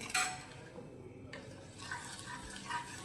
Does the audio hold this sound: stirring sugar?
yes